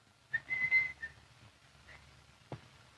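A person whistles a short, clear tune of a few sustained notes, followed by a brief pause and a single sharp knock-like sound, with no talking.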